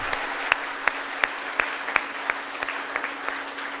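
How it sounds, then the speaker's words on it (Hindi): Audience at a Holi special comedy show gives thin, scattered applause, a steady patter of claps with a few sharper individual claps, fairly even and moderately loud. "तालियां कमजोर हैं आपकी साहब।"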